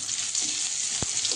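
Chopped onion fries in hot oil in a wok, a steady bright sizzle that is close and continuous, with a soft thump of stirring partway through, no talk.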